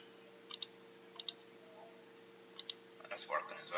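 Three pairs of quick double clicks from a computer mouse, close and crisp, spaced about a second apart over a low steady hum, followed by some faint rustling activity at the end.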